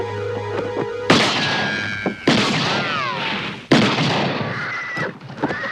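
Loud gunshots in the 1984 film Firestarter crack out in three sharp bursts, each followed by a long ringing tail and whining tones under a tense film score.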